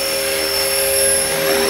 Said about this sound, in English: It's a high quality helicopter, a lot of metal parts on it.